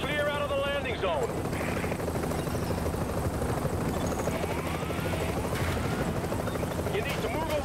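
Helicopter in The Division video game setting down at a landing zone, steady whirring rotor drone throughout, with a brief radio voice at the start and faint gunfire-like crackles in the background.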